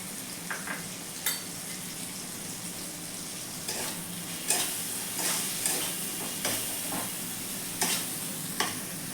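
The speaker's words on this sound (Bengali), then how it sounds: "আমি মশলাটাকে ভালো করে কষিয়ে নেব" Paste of ginger, cumin, coriander, garlic and chilli frying in a pan, a steady close sizzle broken by repeated scraping stirs of a spoon, with no talking.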